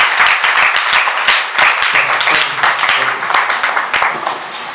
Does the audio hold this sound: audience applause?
yes